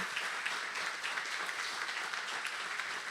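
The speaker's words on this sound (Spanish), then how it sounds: "Vamos a darle un aplauso al Señor." Church congregation applauding during a Spanish-language sermon, a steady wash of clapping at moderate distance lasting a few seconds without a break, no voices standing out above it.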